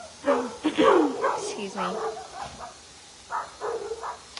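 Several puppies bark and yip in high, excited bursts, fairly close, in scattered clusters with brief pauses, while someone talks over them.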